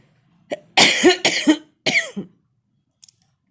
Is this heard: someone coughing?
yes